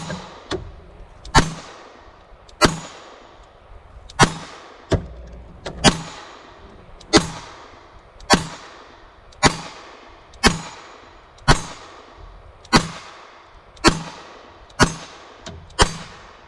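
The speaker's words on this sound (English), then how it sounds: "I'm going to shoot it at the head" A Glock pistol fired 15 times at a target outdoors, loud sharp reports spaced evenly about a second apart, each followed by a short decaying echo, with no talk between shots.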